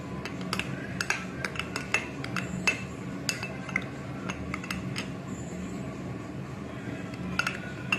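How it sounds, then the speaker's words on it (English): A spoon stirs black pepper into hot ginger tea in a teacup, producing faint, irregular clinks and taps against the cup with quiet scraping between them. "I'm going to add in 1 teaspoon of black pepper and stir it"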